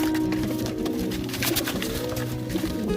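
Pigeons coo steadily at close range after a cat attack, with low repeated calls layered over a constant background din.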